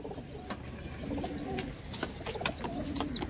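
A twelve-year-old Andhra pigeon with pink bands coos in low, soft bursts close by, with faint chirps and light rustling around it.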